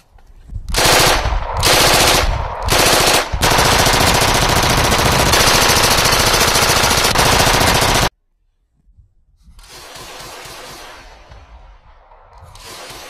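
A Thompson submachine gun fires several short bursts and then one long sustained burst, loud and close, followed by a silent gap and then a quieter stretch of noise.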